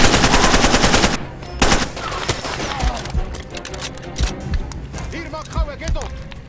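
Sustained automatic gunfire from the video game Far Cry 2, a loud rapid burst at the start followed by scattered shots and clicks while someone talks over it.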